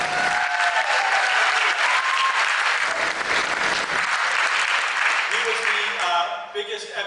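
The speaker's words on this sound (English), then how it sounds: "our biggest round of applause tonight" Steady, full audience applause at a debate event on whether God exists, sustained throughout and tapering slightly at the very end, with faint voices mixed in.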